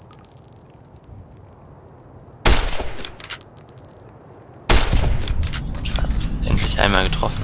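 Gunfire in Fallout: New Vegas comes as two bursts of sharp, loud, clattering shots, each starting abruptly and rattling on with metallic ringing over a low background hum.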